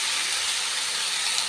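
Bottle gourd hitting hot mustard oil with bay leaves in the pan, giving a brief steady broadband sizzle, close and even throughout with no talk.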